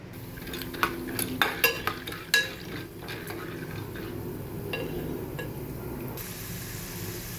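Chana dal stirred into hot oil in a pressure cooker, a spoon scraping and clinking against the metal in a few sharp knocks, followed by a soft steady sizzle.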